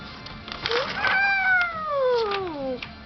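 Young child imitating a cat, voicing one long drawn-out meow that slides downward in pitch, close and clear in a quiet room.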